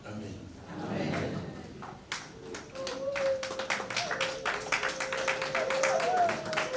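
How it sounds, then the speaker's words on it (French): Scattered hand claps grow into a steady round of applause from a small crowd, with a voice and a sustained tone underneath. "S'il faut applaudir, applaudissez normalement aussi."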